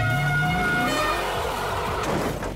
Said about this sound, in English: General Lee slams into Puss in Boots, pushes the back of the car up.